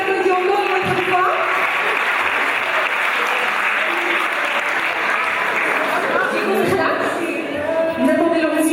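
An audience at a national dictation competition in Morocco applauds the champions, a dense sustained round of clapping filling the hall while someone speaks over it through a microphone.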